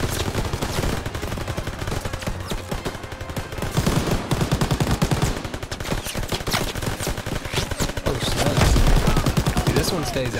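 Machine gun fire rattles through a World War II battle in Call of Duty WW2 in the Ardennes, Belgium, with rapid, continuous bursts and scattered gunshots that stay dense and loud from start to finish.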